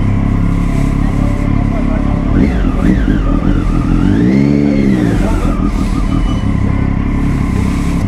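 A motorcycle engine revs loud and close with rising and falling pitch sweeps, a sharp exhaust detonation in the mix, on a city street, with people talking underneath throughout.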